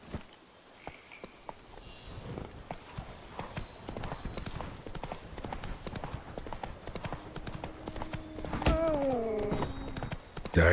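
Rapid clip-clop of horse hooves galloping in The Witcher 3, steady and close, with a brief shrill whinny near the end over a busy background.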